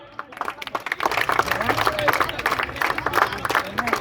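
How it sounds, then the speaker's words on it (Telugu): Audience of students and teachers clapping loudly at a school farewell, dense rapid applause building and holding, with a voice speaking over it. "గట్టిగా చప్పట్లు."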